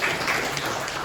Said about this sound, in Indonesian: beri tepuk tangan dulu ke Ahmad